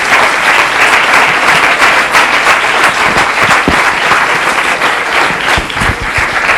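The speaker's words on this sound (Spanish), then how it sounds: "Un aplauso, ¿no?" Steady, loud applause from a seated audience at a wine-week talk on carbon footprint measurement, dense clapping filling the whole stretch with no voices over it.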